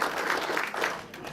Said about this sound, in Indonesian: Beri tepuk tangan buat Ibu Sumi